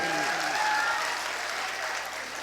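Loud, dense clapping from the audience at a Hindi-Urdu mushaira, a sustained burst that fades gradually, with a voice trailing off at the start.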